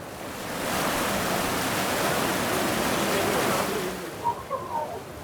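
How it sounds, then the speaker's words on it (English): Steady roar of a waterfall on Siquijor pounding into a plunge pool, loud and broadband for several seconds, then easing into a softer rushing with faint chirpy tones near the end. "The water is so strong that you can't hear anything except the water dropping into a plunge pool."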